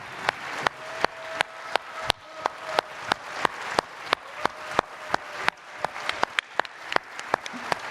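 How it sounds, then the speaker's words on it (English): An audience at a gourmet awards ceremony claps in a standing ovation, with sharp, evenly spaced claps in a steady rhythm that runs loud and clear the whole time. "I think all the audience had to get up to give a clap, a standing ovation to Eduardo."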